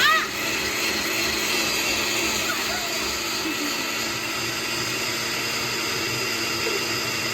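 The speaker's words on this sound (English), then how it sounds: "Okay, so we have the stuff in the mixer and now we're gonna mix it." A kitchen mixer grinder whirs steadily as it grinds mushrooms into a masala paste, a loud continuous motor drone lasting the whole stretch, with a voice speaking faintly over it.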